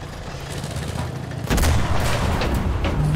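A single heavy tank cannon blast rings out during a Battle of Berlin match in Enlisted, a deep boom landing about midway with loud rumbling battle noise before and after.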